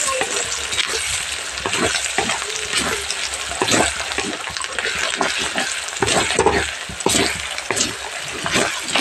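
Onions and coriander sautéing in a pan for homemade biryani, loud sizzling with repeated scraping strokes from stirring at an uneven rhythm, close up and with no talk.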